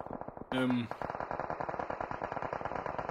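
Rapid automatic gunfire in the video game PUBG, a fast rattling stream of shots running throughout, with a short tonal game sound near the start.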